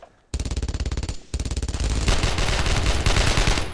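A US M1 rifle fires in the World War II shooter Brothers in Arms: Road to Hill 30. A rapid string of loud, evenly spaced shots breaks off briefly, then resumes as dense, continuous gunfire with no speech.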